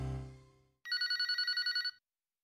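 A phone rings for an incoming call to a radio call-in show, a bright electronic ring pattern of rapid pulses lasting about a second, heard alone after a fading voice.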